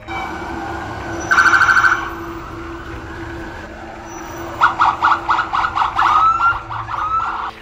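Fire trucks and police cars in Vancouver sound their sirens in tribute to health care workers: a short loud burst of electronic wail, a pause, then a longer run of rapid pulsing siren blasts, moderately close, with no talk.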